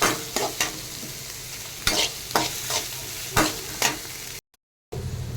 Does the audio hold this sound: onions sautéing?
yes